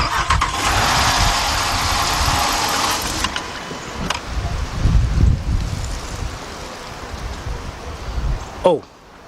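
A Chrysler/Dodge engine with a valve problem and a cylinder 5 misfire cranks loudly up close, a harsh steady churning for about three seconds, then rougher, uneven rumbling with a short sharp burst near the end.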